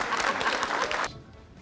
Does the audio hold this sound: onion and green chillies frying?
no